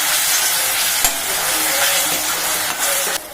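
Onions sautéing in a pan while cooking mushroom masala: a steady, dense sizzle and crackle that fills the whole stretch at close range, with a few faint stirring knocks and no talking.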